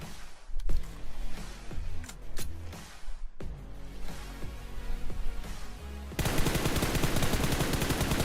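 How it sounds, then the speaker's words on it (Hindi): Suppressed M4 or AKM rifle fire in the mobile game BGMI comes as quick bursts of muffled shots in close rhythm, then a steady harsh rattle of full-auto fire near the end. "ये सप्रेस के साथ कौन सी गन चला रहा है ये? M4 है, AKM"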